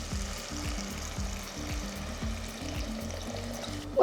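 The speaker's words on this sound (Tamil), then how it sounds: "ஸோ இந்த மாதிரி ஆன பிறகு நான் இப்போது தண்ணி சேர்க்குறேன்." Water goes into a pan of frying tomato and onion masala for Chettinad vengaya kosu, giving a steady bubbling sizzle with a continuous wet pouring texture and low rhythmic bubbling throughout, close and moderately loud.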